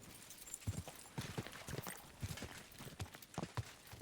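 Horse hooves clip-clopping in the video game Kingdom Come Deliverance II, an uneven run of fairly quick, distinct hoofbeats at close range, quiet overall with no speech over them.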